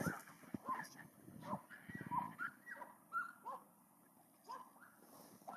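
Several hunting dogs bark and yelp in short bursts at a distance during a wild boar hunt in Ordu, Turkey, with whimpers and a person talking intermittently over them.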